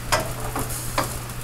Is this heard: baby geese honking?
no